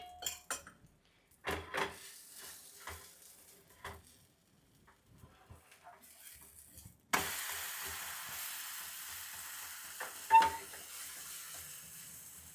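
A sprouted mung bean pesarattu with egg fries in oil on a pan. Soft clinks and scraping come first, then a steady close sizzle swells up and runs to the end, with one sharp utensil clink near the finish.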